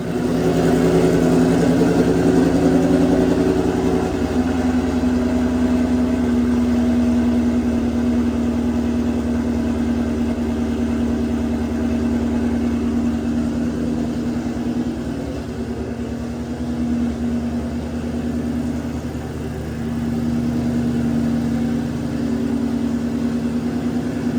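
A 2019 Ford Mustang GT with a stock V8 idles steadily and loud close by, a constant low rumble with a faint hum that holds for the whole stretch with no revving.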